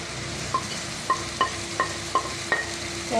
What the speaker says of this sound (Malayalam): ഇതും കൂടി കുടുക്കിലിട്ട് ഒന്ന് ഇളക്കി കൊടുക്കാം